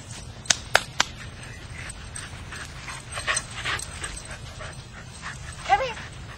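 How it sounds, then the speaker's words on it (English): A lost dog whimpers and yips close by, starting with a few sharp barks, then thin, breathy whines and panting, all fairly quiet against a low steady background rumble. "Oh, what a good dog you are."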